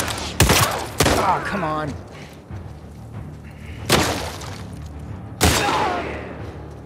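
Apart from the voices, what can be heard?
gunshots in The Last of Us Part 2 video game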